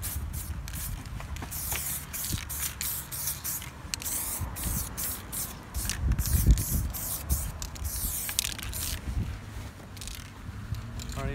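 Spray paint cans lay a light first coat on a tank, giving short bursts of airy hiss that start and stop repeatedly, with some handling and shuffling noises in between.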